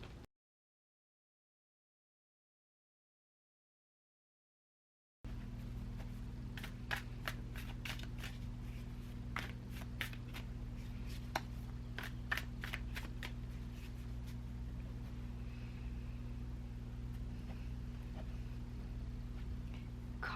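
Tarot cards are shuffled up close after a silent opening, giving a run of crisp, irregular riffling snaps and flicks over a quiet steady hum.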